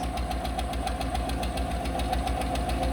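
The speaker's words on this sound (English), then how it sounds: "you can hear it's got one lifter that's not happy" A car engine idling with one unhappy, faulty lifter, a fast, even ticking riding over a steady mid-pitched engine hum, heard up close and alone.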